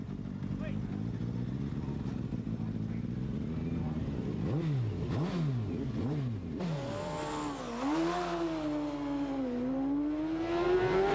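A racing sidecar motorcycle engine leaves the start line at the Isle of Man races, revving hard in rising and falling sweeps before a long climbing roar, loud and close, with commentary speech over it.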